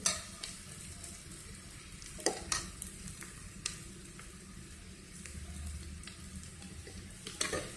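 A spice paste for mutton curry fries in hot oil, giving a steady soft sizzle with occasional scraping stirs and clinks of the spoon against the pan, fairly quiet and without talk.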